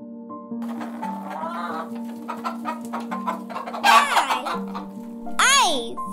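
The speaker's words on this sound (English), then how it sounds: "H for hen." A hen clucks in short bursts, then a rising squawk, layered over a voice and a steady electronic tone.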